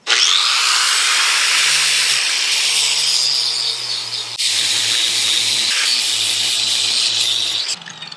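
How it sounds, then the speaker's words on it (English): An angle grinder strips paint off steel angle iron salvaged from a bed frame, making a loud, continuous high-pitched grinding screech that runs almost unbroken, with a brief dip midway. "let's grind this stuff off and get going on this bad boy."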